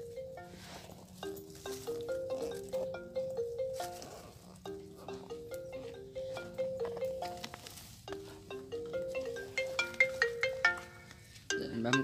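A phone ringtone plays a repeating melodic pattern of bright electronic notes, looping several times at moderate volume over low background noise, with no talk.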